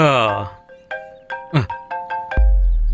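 A phone ringtone chimes in a short electronic melody of repeating tones, close and clear, with a brief voice at the start.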